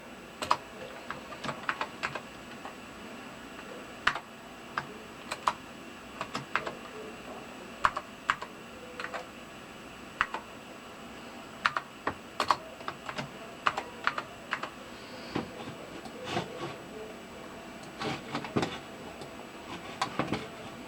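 Clicking keystrokes on a Macintosh SE computer keyboard, quiet irregular taps and short runs of typing spread across a calm, otherwise still room.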